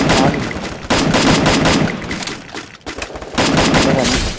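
In the Free Fire mobile shooter game, an MP40 submachine gun fires in loud, rapid bursts, with several close volleys broken by short pauses.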